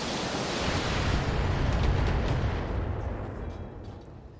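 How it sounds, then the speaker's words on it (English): Mech weapons firing on a target in the BattleTech video game, a heavy, rumbling blast that swells and then slowly fades over a few seconds, with no voices. "Firing on target."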